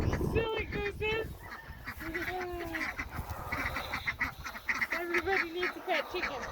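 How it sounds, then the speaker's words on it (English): Geese honking repeatedly on a family farm, loud nasal calls in quick uneven bursts close by, overlapping through the whole stretch with a voice faintly mixed in. "Silly gooses!"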